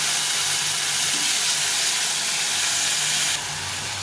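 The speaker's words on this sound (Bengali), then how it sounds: "এখন এই আদা জিরা লঙ্কার পেস্টটা দিয়ে দেবো। একটু কষিয়ে নেবো।" A paste of ginger, cumin and chili fries in a pan for a fish curry. It makes a loud, steady, close sizzling hiss that suddenly drops a little in brightness near the end.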